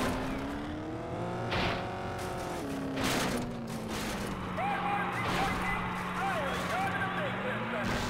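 Derby car in the Test Drive Eve of Destruction video game, its engine droning and shifting pitch steadily, with whining tones and impact bursts, under ongoing speech.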